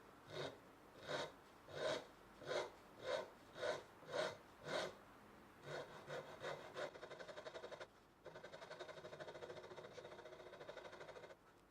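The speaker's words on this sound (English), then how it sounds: "carve it in using a fairly fine half-round rasp, then finish it with some hand sanding" A fairly fine half-round rasp scrapes across a walnut guitar neck in rhythmic strokes, about eight slow even passes, then faster, shorter rasping strokes continue close up.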